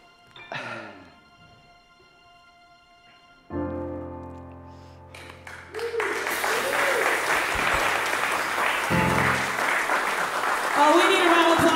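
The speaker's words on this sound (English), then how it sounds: "we need a round of applause for this amazing music ensemble" Audience applause follows a live music ensemble's performance at a church livestream service, building from quiet sustained tones into steady clapping and cheering that grows louder toward the end, with voices mixed in.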